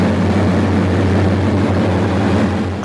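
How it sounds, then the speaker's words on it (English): Rolls-Royce Griffon piston engines on an Avro Shackleton roar at full power, a loud, steady, saturating propeller drone with deep throbbing harmonics holding constant throughout. "the roar of those Griffins are so loud that they saturate the camera's microphone"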